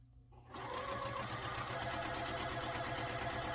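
A sewing machine starts after a brief pause and runs steadily at speed, stitching the seams of a maple leaf quilt block in a continuous close whir with a fine rhythmic needle pulse.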